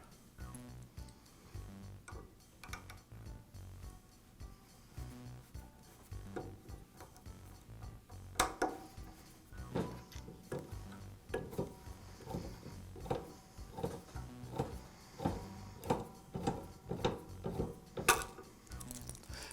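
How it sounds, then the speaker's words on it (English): Bearing puller working the commutator-side ball bearing off the armature shaft of a DeWALT chop saw motor, with irregular metallic clicks, scrapes and sharp ticks growing busier and louder in the second half, close and alone. "I'll remove it with a bearing puller."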